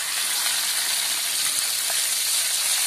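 Fish sizzles steadily in hot oil in a pan while Malay-style curry is cooked, a constant bright hiss with no voices.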